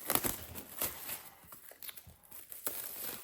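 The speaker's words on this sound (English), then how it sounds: "covered in plastic. Let me see if I can get that opened up real quick." Plastic shrink wrap being torn open on a book in a Metallica Load deluxe box set, giving a few quiet crinkling, tearing rustles in short bursts with no talking.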